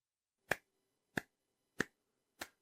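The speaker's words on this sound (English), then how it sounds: "So you can clap your hands while you listen" Four evenly spaced, sharp hand claps beat out a slow steady rhythm, each crisp and isolated against near silence.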